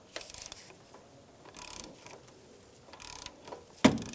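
A 22mm socket turns a Subaru Outback engine over by hand through its new timing belt, giving soft mechanical creaks and ratcheting clicks in uneven bursts, close and quiet, ending in one sharper clack.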